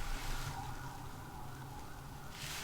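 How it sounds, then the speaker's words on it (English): Emergency vehicle sirens wail faintly in the distance, a thin wavering tone over a low rumbling background, with no talking. "More sirens are coming."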